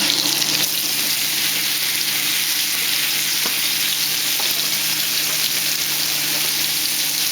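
Steak sizzling and frying steadily in a pan, a continuous loud hiss with faint occasional clicks, heard alone without talk.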